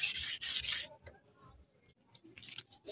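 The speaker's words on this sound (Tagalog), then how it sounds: "Ang liha pa lang ginamit natin dito is number 120." A steel motorcycle rim on a Bajaj CT 100 is sanded with 120-grit sandpaper to remove rust, giving close, harsh rubbing strokes in quick bursts, then a pause and softer scrapes before the strokes start again.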